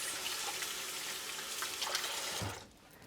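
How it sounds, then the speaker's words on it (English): Running tap water splashing over hands being rinsed at a kitchen sink, a close steady hiss of flowing water that cuts off abruptly near the end. "Give my hands a rinse,"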